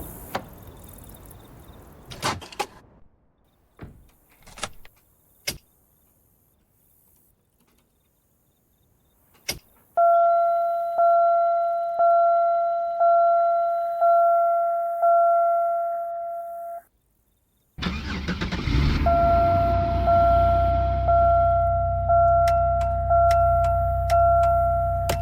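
A 2001 Buick Park Avenue in a roleplay video game: a few clicks and thumps, then a steady tonal chime pulsing in a regular rhythm, a brief pause, a crank-like rush into an idling engine with the chime continuing over it.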